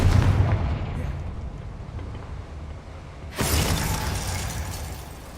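A Confringo blasting spell goes off in Hogwarts Legacy, a sudden loud burst with a crackling, shattering tail that fades slowly, following a quieter rumble.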